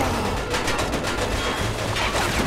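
Gunfire in the video game Mafia 2, a rapid burst of loud shots that crack one after another for the whole stretch over a dense, noisy backdrop.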